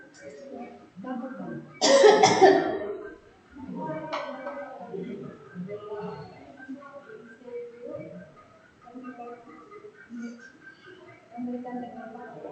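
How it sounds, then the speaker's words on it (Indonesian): A patient coughs during an effective coughing exercise. A few short bursts come close to the mic, one clearly stronger than the rest, and quiet speech and breathing sounds run between them. "Batuk."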